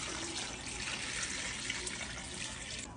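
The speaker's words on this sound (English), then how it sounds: "gonna cover this with some cold water" Cold water pours steadily over leftover turkey bones in a stockpot, a constant close rush and splash at moderate level with no talking.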